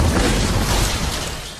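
A loud, sustained rumbling boom like thunder as a Comet airliner breaks up in the air, broadband and heavy at first, then slowly fading over a second and a half, with no voices.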